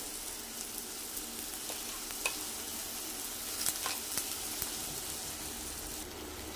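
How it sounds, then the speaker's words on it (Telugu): Ginger garlic paste fries in a pan with softened tomato and onion, a steady close sizzle broken by a few stirring scrapes, with no talking. "ఇప్పుడు ఈ అల్లం వెల్లుల్లి పేస్ట్ అంతా కూడా మంచిగా వేగిపోవాలి"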